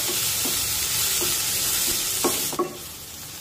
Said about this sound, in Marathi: आणि कांदा उलटण्याने एकसारखा असा हलवून घ्यायचा, म्हणजे सगळीकडून तो एकसारखा भाजला जातो.